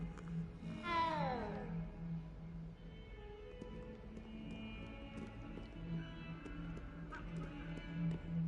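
A cat meows in the video game Hogwarts Legacy, giving a clear rising-then-falling mew near the start over a steady game soundscape with soft ambient tones.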